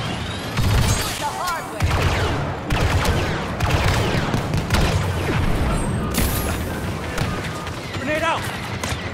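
Covering gunfire in Star Wars Battlefront 2 at Endor Research Station 9, dense rapid blaster bursts and booms layered over battle noise, loud and continuous, with voices calling out over the shooting.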